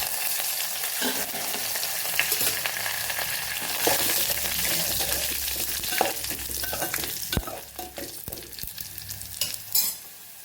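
Bay leaves, dried red chillies and curry leaves crackle and sizzle loudly in hot oil, with sharp pops and spatters and some scraping of a utensil, no voices.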